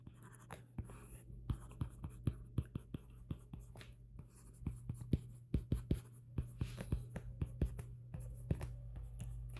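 Marker or chalk strokes on a board during a math lesson on limits, heard as a quick series of close taps and scratches in uneven bursts over a low steady hum.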